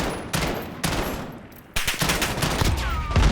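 Bursts of automatic gunfire from the Modern Warfare shooter on the Azhir Cave map: dense, loud, sharp crackling volleys start, pause and resume, with no talk over them.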